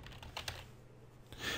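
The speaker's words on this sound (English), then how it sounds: "we're going to type in sudo apt-get" Computer keyboard typing a terminal command on a Raspberry Pi setup: soft, quiet key clicks in a short burst, close by in a quiet room, with no voices.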